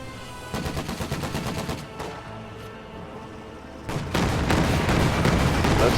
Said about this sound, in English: Beamer getting pushed back by the LMG blob of Grens.